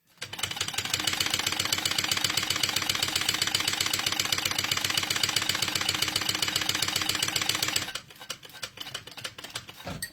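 Sewing machine top stitching a crossbody bag, a steady fast mechanical rattle and hum running continuously for about eight seconds before stopping, with faint handling noise afterward.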